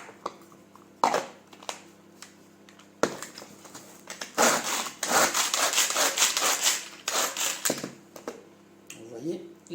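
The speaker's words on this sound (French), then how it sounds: "je vais couper en morceaux mon oignon, donc 75 grammes" A knife coarsely chopping a 75-gram onion into pieces on a cutting board, a run of quick, dense, near cuts with pauses between bursts and a few single knocks.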